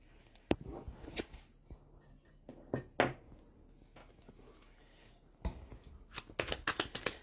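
Oracle cards are shuffled by hand close up, with soft irregular riffles, taps and flicks between short pauses. The sound is quiet, and no one speaks.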